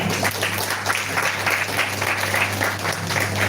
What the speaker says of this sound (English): give a big clap for Sandeep sir.